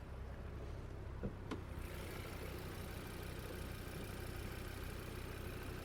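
A 2021 Audi RS Q3 engine idling steadily with a low, even rumble throughout, with a couple of brief faint clicks near the start.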